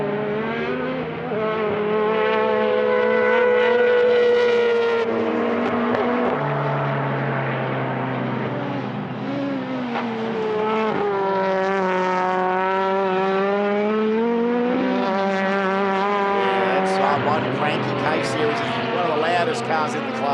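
A supercharged K-Series engine screams in a Honda Integra race car at a time attack event, revving hard through gear changes with a rising and falling whine, loud and sustained for the whole stretch.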